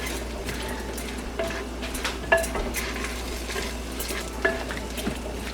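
Green onions sautéing in a wok make a soft, steady sizzle, with intermittent light clinks and scrapes of a spatula against the pan.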